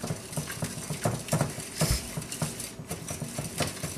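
A hand beater whirs in a rapid, rhythmic mechanical churn as an egg is mixed into creamed butter and sugar for blonde brownies, steady and close with no talking.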